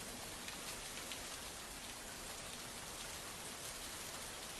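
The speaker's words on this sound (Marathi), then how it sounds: "पावसाचा जोर कायम आहे" Heavy monsoon rain pours down steadily in Maharashtra, a dense, even hiss of downpour with no let-up and no voices.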